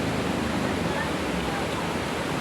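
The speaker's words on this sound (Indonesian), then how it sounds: "Itu dia aliran airnya ke sana." Water pours down the Curug Cihanjawar waterfall in Garut, a loud, dense and unbroken roar that fills the whole scene with steady rushing noise.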